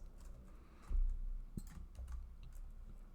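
A few quiet keystrokes on a computer keyboard, with light, scattered clicks and one slightly stronger tap, close and faint, without any talking.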